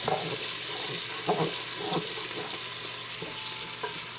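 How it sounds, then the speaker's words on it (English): Onions sizzle steadily in a pan on the stove, with short scraping stirs breaking through the frying hiss every second or so, close and alone. "Now I'm gonna cook these onions until they become translucent and soft"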